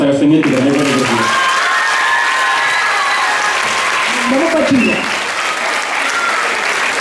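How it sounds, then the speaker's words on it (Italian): A theater audience at a stage performance breaks into loud, sustained applause, dense and continuous, while a voice speaks and sings over the clapping. "Un applauso alla professoressa Castagnetti per aver fatto così."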